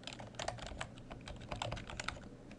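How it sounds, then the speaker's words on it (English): Keys clatter on a computer keyboard while entering single-line text in AutoCAD 2014, a steady run of quick, close, light taps with no speech. "And now I'll begin to type."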